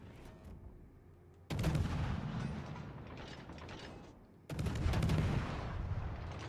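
Naval guns fire in the video game World of Warships: Legends: two loud salvos, each a sudden booming burst with a rattling, rumbling tail, separated by a quieter mechanical lull.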